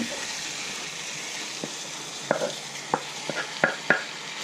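Chicken pieces, cut into halves and thirds, go into a hot pan for an almond-sauce curry, giving a steady broad sizzle with a run of sharp clacks and knocks near the end, with no talking.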